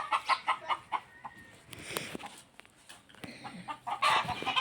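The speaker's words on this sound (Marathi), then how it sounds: "कोंबड्या लागलं ताणायला कुत्र." Farm hens cluck and squawk in bursts as a dog chases them, the cackling rising and falling at a moderate distance amid faint rustling and thumps.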